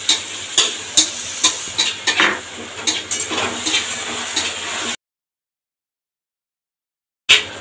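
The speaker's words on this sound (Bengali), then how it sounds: "এটাকে খুব ভালো করে আমি কষিয়ে নেবো যতক্ষণ না তেল ছাড়ে" A spoon scrapes and clinks against a pan as spice paste fries in oil, a run of sharp, close strokes over a low sizzle, then sudden silence before the scraping briefly resumes.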